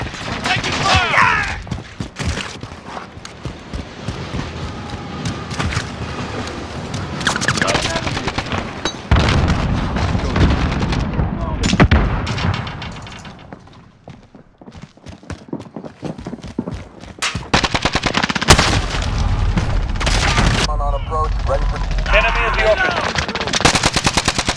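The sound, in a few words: gunfire in Call of Duty Modern Warfare video game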